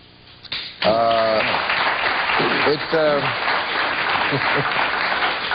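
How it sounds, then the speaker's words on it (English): A television studio audience gives modest, scattered applause that carries on steadily, with voices talking over it. "It's a tepid amount of applause because it's news to almost everyone."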